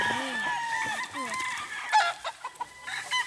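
Chickens and roosters on a hillside farm estate, clucking and calling in a busy, close cluster of overlapping squawks, with a few sharper cries near the end.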